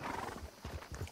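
A horse in Red Dead Redemption 2 moving briefly, a short snort and soft hoof thuds, faint and close.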